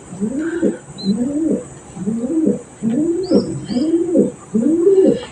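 Racing pigeons coo in a steady series of six soft, rolling calls close by, with brief faint chirps above and a constant high hiss in the background.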